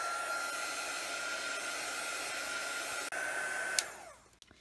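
Hair dryer blowing steadily on a stamped paper craft project, a loud continuous whir that runs unbroken before clicking off and fading out near the end.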